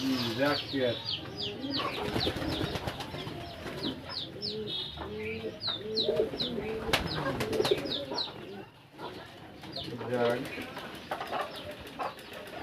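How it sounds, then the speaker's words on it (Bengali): Pigeons coo repeatedly in soft, rolling calls in a loft, overlapping one another while people talk nearby. "এখানে কয়েক জোড়া কবুতর দেখবো"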